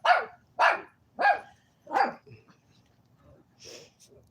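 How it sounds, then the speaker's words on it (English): Several sharp dog barks in quick succession, close by, as dogs fight over a small toy, followed by softer yips and a whimper as the scuffle settles. "They're fighting over a little toy over there."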